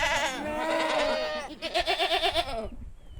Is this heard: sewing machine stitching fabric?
no